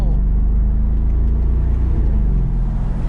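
A tuned 2020 BMW M550i accelerates in comfort mode, its engine giving a steady, loud low drone heard from inside the car, with a slight rise in pitch toward the end.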